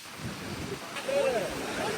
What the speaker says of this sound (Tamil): கடன் காத்து அடிக்குது